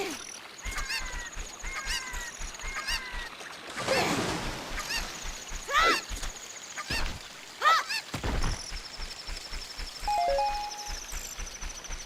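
Cucco chickens in the video game The Legend of Zelda: Ocarina of Time, giving repeated short squawks and clucks in several bursts alongside other game sounds, with no talk.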